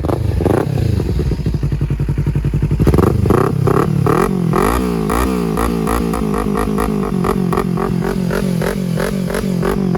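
A 2015 Kawasaki Z300 motorcycle engine running close by, with a fast, steady throb that settles into an even idle pulse, plus some mechanical clatter.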